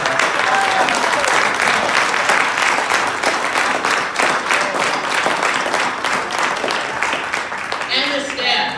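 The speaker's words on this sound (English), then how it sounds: "Let's everybody give Mark Jaffe a really big round of applause" An awards-ceremony audience at a Hard Rock Cafe gives a loud, sustained round of applause, a dense wash of many hands clapping continuously, with a brief voice near the end.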